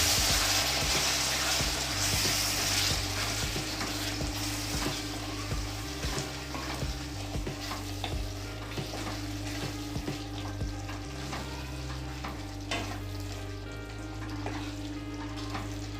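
Vegetables sizzle and crackle steadily in a hot pan over a low gas flame, with a spoon scraping and stirring throughout, close and continuous, with a low hum beneath.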